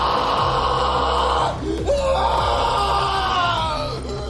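A voice imitates an anguished scream of pain in a cyberpunk role-playing game: a loud, sustained howl that breaks off briefly and then rises again into a strained wail.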